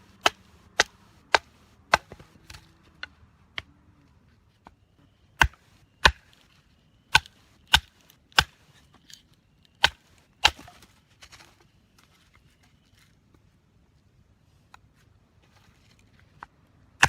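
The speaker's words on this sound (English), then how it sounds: "Cedar batons pretty easily" Cedar wood being batoned with a Becker BK16 knife outdoors: sharp, crisp knocks close by, struck in uneven bursts with pauses between, and no talking.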